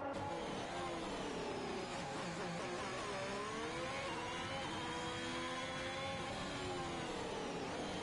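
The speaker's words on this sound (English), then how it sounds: "Rear wing open on the Ferrari, down the back straight, heading towards turn 10." A Ferrari Formula 1 car in the F1 2021 racing game, rear wing open down the back straight at Spain, screams at high revs, its engine pitch rising and shifting steadily, loud and continuous with no talk.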